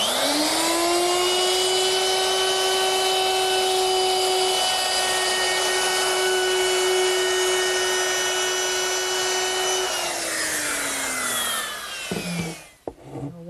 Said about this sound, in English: To make that round over, I'm using a 3/8 inch radius round over bit